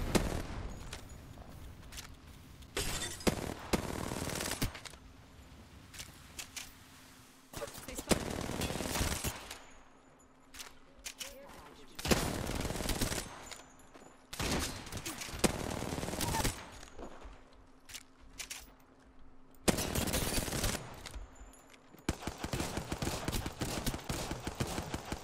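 Gunfire in Apex Legends comes in repeated bursts of rapid automatic fire, loud and close, separated by quieter gaps, with a player's voice occasionally heard over the game sound.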